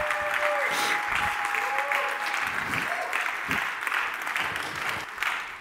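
A conference audience claps and cheers for a speaker taking the stage at a tech event, steady close applause with a few whoops rising over it throughout.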